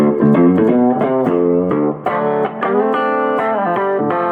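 An electric guitar tuned down a whole step plays through a digital effects unit, giving loud, sustained, chorus-tinged chords and picked notes in a loose rhythm with brief pauses.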